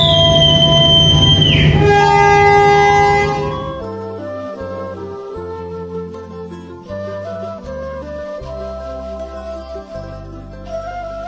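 Passenger train on the Cirebon to Semarang line, hauled by a locomotive, rumbles loudly along the rails with sustained horn-like tones at first. It then drops to a quieter, steady running sound with no talk.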